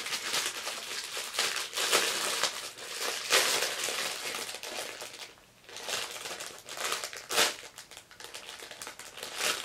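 Gift wrapping torn and crinkled open on an advent calendar present, close and fairly quiet, with repeated bursts of paper crumpling and rustling in irregular handfuls and no talk.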